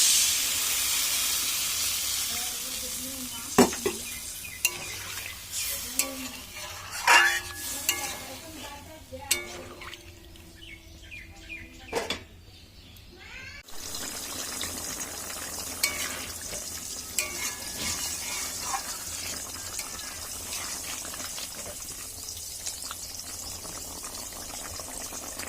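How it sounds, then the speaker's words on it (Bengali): Water poured into a pan of sizzling duck egg curry, with loud frying and spoon scrapes giving way to a hiss and a bubbling simmer under steady sizzle. "এবার আমি দিয়ে দিচ্ছি জল"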